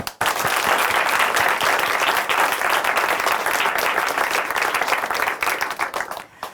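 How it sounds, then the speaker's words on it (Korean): A studio audience at a Christian testimony program applauds to cheer on a worship singer, with dense, sustained clapping that stays loud throughout and then cuts off abruptly. "앞으로의 찬양 사역도 우리가 함께 박수로 응원해 드리겠습니다"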